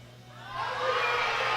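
A crowd at a world bench press championship swelling into cheers and shouts, rising quickly from a low murmur to a loud, sustained roar of excited spectators.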